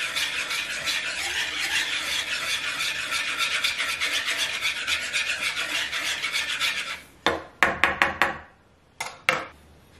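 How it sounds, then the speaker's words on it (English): A whisk scrapes briskly around a bowl of flour and salt in a home kitchen, a steady rubbing rasp for several seconds, then a few sharper separate taps and strokes near the end. "and then just whisk that up."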